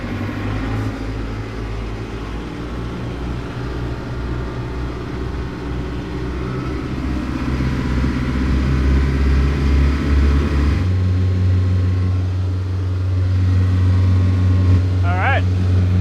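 A boat engine fitted with a new propeller runs up toward 2,700 RPM, a steady low drone that thickens and climbs partway through, with faint voices in the background.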